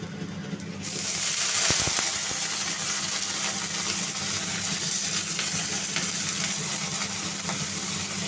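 Potato pieces sizzle steadily in hot oil tempered with black cumin seeds, a dense close frying hiss that swells after the first second and holds evenly with no speech.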